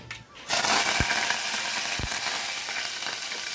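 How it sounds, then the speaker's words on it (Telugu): Curry leaves hitting hot oil in a pan for a tomato and drumstick curry: a sudden burst of bright sizzling that starts abruptly and holds steady, with a couple of soft clinks. "కొంచెం నూనె వేడెక్కిన తర్వాత మనం కరివేపాకు వేసుకుందాం"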